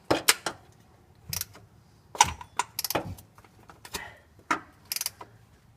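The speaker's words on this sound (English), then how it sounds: "we're gonna take our trusty little oil filter wrench, stick her on there, and tighten it up" An oil filter wrench tightens a new oil filter on a car during an oil change, with a series of sharp metallic clicks and clanks in irregular bursts, close and fairly quiet.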